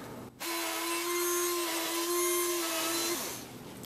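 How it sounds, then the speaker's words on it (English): A power drill whines steadily for about three seconds against a hissy background, its motor pitch holding fairly constant as it bores a pilot hole through wood with a 9/64 bit. "So I'm going to pre-drill."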